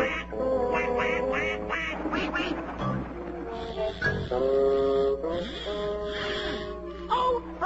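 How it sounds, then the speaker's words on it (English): A cartoon duck in a Tom and Jerry cartoon quacks loudly and repeatedly in quick, nasal bursts, close up and continuous throughout. "You are a duck."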